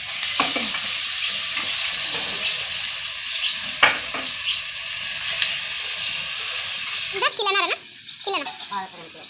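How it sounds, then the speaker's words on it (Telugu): Fish added over a tempering in a pan fry with a steady, hissing sizzle and occasional stirring clinks, while a voice chatters faintly in the background. "తాలింపు పైన ఇప్పుడు చేపలు వేస్తున్నా"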